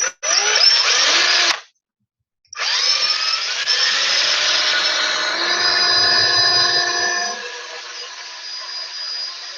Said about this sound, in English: All I've done is just drill a hole.